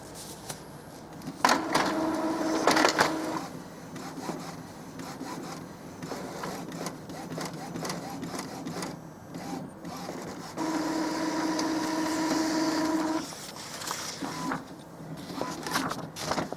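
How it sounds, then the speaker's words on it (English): An Epson XP-3100 inkjet printer prints on A4 plain paper, its carriage whirring and rubbing in repeated mechanical passes with louder bursts, close and steady, with no talk. "Load A4 size plain paper, which we have done in the back of the printer, and then you'll select the start button."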